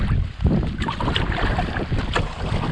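Wind gusting across a pond in a Vermont spring whiteout, with a Hornbeck boat on the water, a loud, continuous buffeting roar with ragged bursts and no talking.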